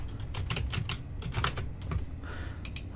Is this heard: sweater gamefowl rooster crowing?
no